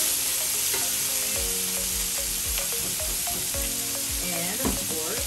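Chicken breast sizzles in a pan with tomato and onion, a dense steady fry with repeated stirring scrapes and clinks close by.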